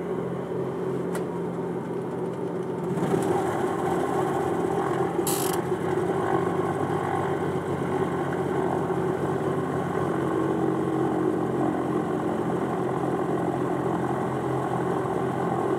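A Cessna 414 piston engine being started with starter and primer, a mechanical ratcheting crank that catches into a steady, close, loud droning rumble that holds evenly.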